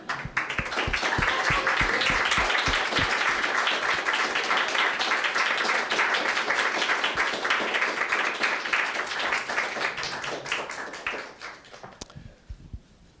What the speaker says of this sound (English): a standing round of applause